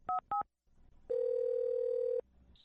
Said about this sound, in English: I'll dial their phone number and try one more time